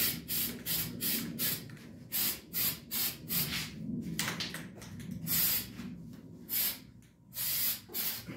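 Aerosol spray paint laying a light coat onto an electric guitar body: a long run of short, sharp hissing bursts, close and fairly loud, separated by brief gaps, with a few longer sprays near the end.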